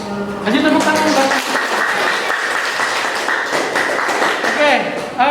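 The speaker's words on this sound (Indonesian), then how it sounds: "Kasih tepuk tangan, Pak." Students applaud in a classroom after a group presentation, a loud, sustained round of many clapping hands, with voices talking over it at the start and end.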